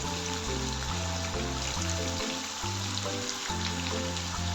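Seer fish slices fry with curry leaves in hot oil in a Kerala kitchen, giving a dense, continuous close sizzle under a steady low background hum.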